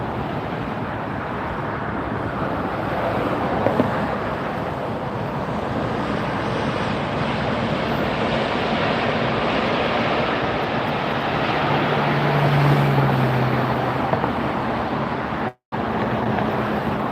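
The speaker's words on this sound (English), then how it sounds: "A380, Asiana. Here it comes." An Asiana Airbus A380 approaching LAX makes a sustained, heavy jet rumble that builds gradually and stays loud throughout, broken by one brief dropout, with no voices.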